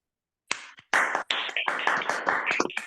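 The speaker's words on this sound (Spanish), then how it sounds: "le demos un aplauso en serio desde el corazón a Lorenzo." Audience applause at a legal lecture, starting with a few claps then swelling into steady clapping from many hands, loud and close, with no talking over it.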